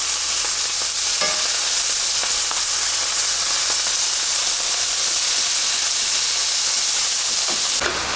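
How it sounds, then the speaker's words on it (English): Steak slices frying in a hot, oiled pan over medium-high heat for a Philly cheesesteak, giving a loud, steady sizzle with crackling pops and an occasional faint stir, and no voices. "Now I'm going to add in the steak slices."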